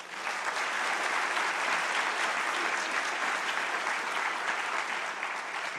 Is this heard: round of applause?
yes